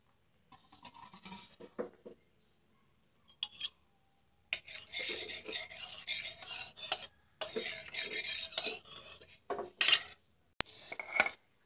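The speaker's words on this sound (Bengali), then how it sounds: "আগে কড়াটাতে একটু তেল মাখিয়ে নেব" Oil is spread around a kadai before Roopchand fish is mixed in it, with faint, intermittent scraping and rubbing of a utensil against the metal in short bursts between pauses.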